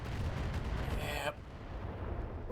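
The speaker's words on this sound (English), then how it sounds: "that bomb hit hard" A bomb slams into a battle mech in a game, a heavy booming impact under dense rumbling combat noise that cuts off abruptly partway through.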